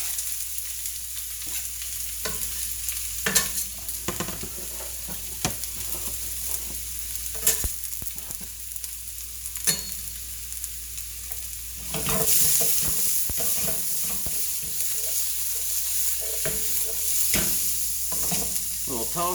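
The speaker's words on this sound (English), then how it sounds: "A little toss to mix the oil with all of the onions." Onions sizzling in hot oil in a home kitchen pan, a steady frying hiss broken by repeated sharp clatters and scrapes as they are tossed and stirred, growing louder near the end.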